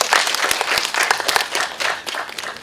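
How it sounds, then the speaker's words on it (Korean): At a community film screening for the Sewol ferry tenth anniversary in Guro, the crowd gives a warm welcome to a speaker with steady applause, a close, bright crackle of many hands with a few sharper individual claps standing out. "큰 박수로 모시겠습니다"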